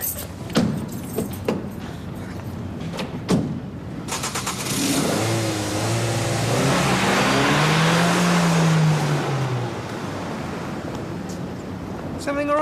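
A car engine starts and revs up as the vehicle pulls away, preceded by door clunks and jangling keys, the engine climbing loudly and steadily before fading, with voices talking nearby.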